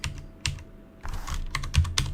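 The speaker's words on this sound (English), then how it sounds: "Looks like you're banging the keyboard." Rapid bursts of keystrokes on a computer keyboard, hard and clattery, arriving in uneven clusters with brief pauses, close to the mic with no voices.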